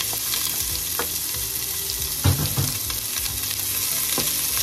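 Onions hit a pan of chicken kaldereta with garlic, sizzling steadily up close while a spoon stirs, including one louder clattering scrape in the middle; no one speaks.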